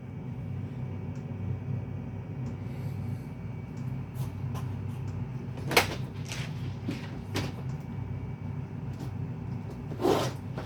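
A diesel parking heater on a VW Sharan, Ford Galaxy or SEAT Alhambra gives several sharp, scattered clicks over a low, steady mechanical hum.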